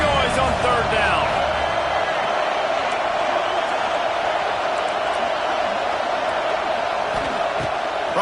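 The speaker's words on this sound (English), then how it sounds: "This dog crowd is off the leash, and they are coming after them, bringing noise on third down." Stadium crowd in College Football 26 roaring on third down, a dense unbroken wall of cheering and yelling that stays loud and steady throughout, with a commentator's voice riding over it.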